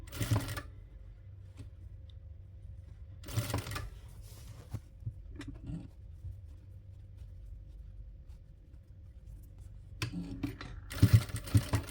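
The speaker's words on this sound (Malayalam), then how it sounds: "ഈ ഒരു രീതിയിൽ സ്റ്റിച്ച് ചെയ്തെടുക്കുക." A sewing machine stitches pleated strips of old t-shirt into a doormat in short, close whirring bursts separated by quiet pauses, with the longest burst near the end.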